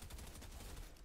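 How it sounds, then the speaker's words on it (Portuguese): Dense burst of video game gunfire, a rapid run of overlapping shots filling the whole moment at steady loudness, with no voices over it. "Um tiro."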